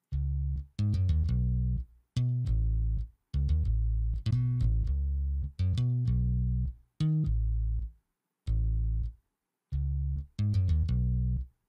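Omnisphere synth on its Trillion preset plays for an afrobeat track, sounding as short, clean, plucky chord stabs in a syncopated, repeating pattern with clear gaps between them, alone and without drums or voices.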